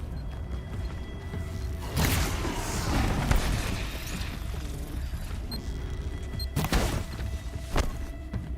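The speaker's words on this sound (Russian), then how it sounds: "Кидает бомба." Deep muffled booms from a thrown bomb in Horizon Zero Dawn, a couple of explosion bursts rising out of a constant rumbling mechanical background.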